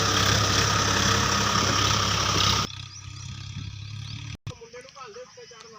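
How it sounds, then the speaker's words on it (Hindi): A Mahindra 655 three-cylinder tractor engine runs loud and rumbling for about two and a half seconds, then drops to a quieter, steady idle with a voice talking over it near the end. "ये देखो जी ट्रैक्टर की साउंड से पता लग गया होगा आपको भी कितनी कुछ पावर लगती है इसके अंदर।"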